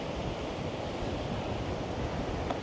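Waves and wind on a beach, a steady broad rush of surf mixed with wind buffeting the microphone, continuous and fairly loud with no voices.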